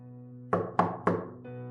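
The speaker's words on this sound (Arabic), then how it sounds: "سمعت 3 دقات على باب بيتي" Three firm knocks on the door of a house, evenly spaced and close, each a sharp thud with a short decay, over a steady low hum.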